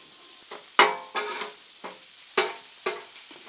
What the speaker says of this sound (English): And as the bacon cooks, as the onion cooks, I'll either move them to the side or move them off.